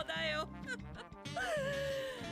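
A dog in an anime episode yips and whimpers, with whining and bark-like notes sliding in pitch. Close and fairly loud, mixed with voices and a tonal background.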